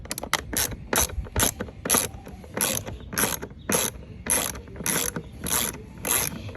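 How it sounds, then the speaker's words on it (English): Ratchet wrench loosening the torque bolts on the air filter housing of a Cadillac DTS, a close, steady run of sharp clicking bursts in quick rhythm with no talk. "So we're going to start by taking these two bolts out."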